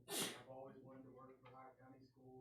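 A single loud sneeze bursts out at a county board of education meeting, followed immediately by someone speaking into a microphone.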